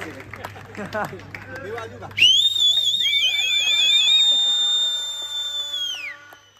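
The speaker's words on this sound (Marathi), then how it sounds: "मी एकदा शिटी वाजवतो" A loud, shrill whistle blown once at an award ceremony, sustaining for about four seconds with slight wavering before trailing off, preceded by crowd chatter and talk.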